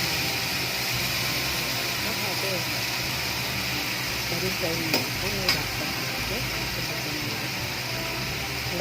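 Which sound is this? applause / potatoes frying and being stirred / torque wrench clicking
potatoes frying and being stirred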